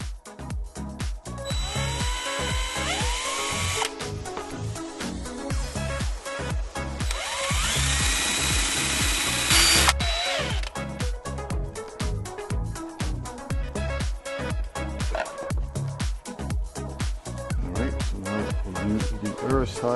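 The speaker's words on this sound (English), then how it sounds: "I'll either take a little saw or a little cutting disc on my Dremel and I'll finish it" A Dremel rotary tool with a small cutting disc cuts into a Yamaha R3 motorcycle air box, giving a high whining grind in repeated bursts that change pitch as the disc bites and frees up, close and fairly loud.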